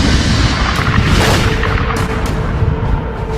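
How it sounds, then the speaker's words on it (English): A supernova explosion sound effect, a deep sustained rumbling roar with a heavy low-end boom that stays loud and dense from start to finish, no voices. "pulsars are formed in these incredible explosions"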